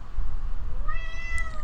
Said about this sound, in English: That's why he's in here and meowing, because he wants to get out